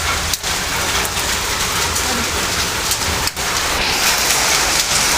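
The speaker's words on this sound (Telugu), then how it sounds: "వడగలతో కూడిన వర్షం" A close, loud and continuous downpour of heavy rain with large hailstones in Bethamcherla, hissing steadily across the whole stretch with a couple of short gaps and no speech.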